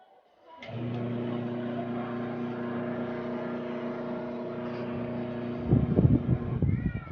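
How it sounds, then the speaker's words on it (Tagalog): A washing machine's wash motor starts up after a brief quiet moment, then runs as a steady humming drone with a clear tonal whine before rougher churning noise near the end. "gumagana na yung wash motor natin"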